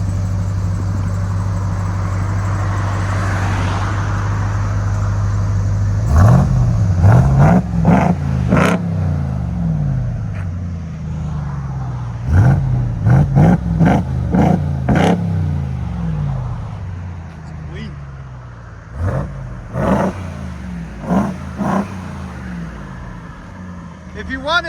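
A RAM TRX pickup's supercharged 6.2L HEMI V8 with a Carven TR Series exhaust idles with a deep rumble, then blips through a series of sharp, loud revs, close by, with voices talking between the revs.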